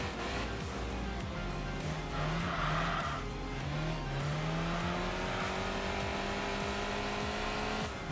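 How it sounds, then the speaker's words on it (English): A race car in Enthusia Professional Racing brakes hard from high speed, its engine note falling amid squealing tires and skidding, a steady, moderately loud mix with no talk over it. "the car just wants to absolutely buckle under heavy braking from high speed"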